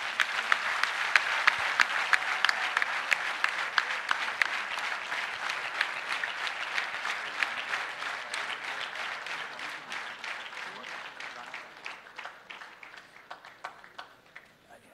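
Long, dense applause from a corporate audience for a performance, many hands clapping in a thick continuous roar that slowly thins and fades over fifteen seconds, with a few sharper claps near the end.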